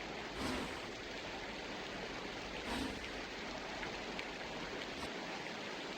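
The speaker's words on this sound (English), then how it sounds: "wow, of course it's raining." Steady rain falls in a zombie train video game, a faint, even wash of hiss with no distinct drops standing out, continuous and alone without talk.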